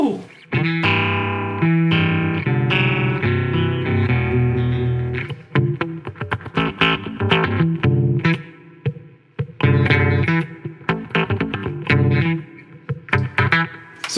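Guitar run through an Electro-Harmonix Ring Thing ring modulator with its tune button held, playing loud metallic, warbling chords and then choppy, stuttering notes, with voices briefly heard underneath.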